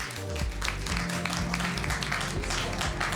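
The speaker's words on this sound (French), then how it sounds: "je veux qu'on applaudisse de manière sérieuse, s'il vous plaît, pour elle" An audience applauds a woman named Christelle as she walks onto a stage, a dense, steady wash of many hands clapping that fills the whole stretch at an even, fairly loud level.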